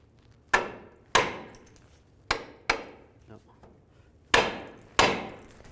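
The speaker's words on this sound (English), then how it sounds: "Sometimes you can just take a hammer and give it a tap right here." A hammer taps metal on a 2002-2009 Chevy Trailblazer engine during timing chain work, six sharp, ringing strikes spaced unevenly, close and loud, with no talk.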